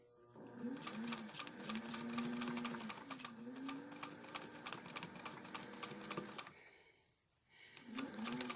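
Sewing machine stitching fabric on paper for a poinsettia, including a short back tack, running almost continuously in a fast close rhythm with a brief pause before a final burst, no voices.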